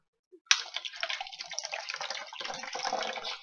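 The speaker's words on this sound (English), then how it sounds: "fill it up with water." Water pours from a tap into a metal can: a sudden splashing onset, then steady gushing that deepens slightly as the can fills, close and moderately loud.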